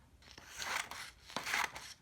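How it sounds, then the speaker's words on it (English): A pair of blunt craft scissors is handled close up, giving two soft rustling, scraping bursts with faint clicks, spaced about a second apart against a quiet room. "And another pair of scissors."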